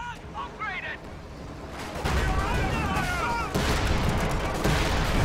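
Tank cannon and battle gunfire in Company of Heroes 2, a dense, loud rumble of shots and blasts growing heavier midway, with voices talking over the din.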